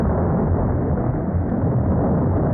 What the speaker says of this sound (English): The explosion obliterated a small minefield somewhere